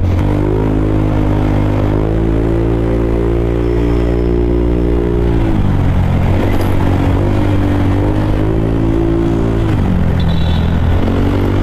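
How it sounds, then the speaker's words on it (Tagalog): A heavy big motorcycle engine rumbles loudly and steadily nearby, its pitch dipping and rising as it revs amid constant road traffic noise, at night in Metro Manila. "Kagrabe naman talaga yung tunog ng big bike."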